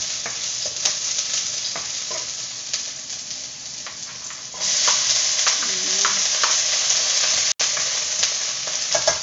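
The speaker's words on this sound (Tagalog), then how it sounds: "sibuyas at bawang. Ilagay na natin. Sakit ng talsik eh." Chopped onion and garlic sautéing in hot oil for a Filipino chicken dish, with a continuous close sizzle that grows louder midway and light stirring clatter throughout.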